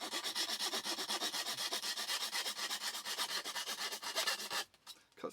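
A hand saw rasps steadily through hard wood in fast, regular back-and-forth strokes, loud and close, stopping abruptly near the end of the cut, with no voices.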